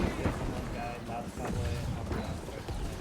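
Distant booms of cannon fire during a siege battle in a video game, with heavy rumbling impacts in a dense battle din while a player talks over it.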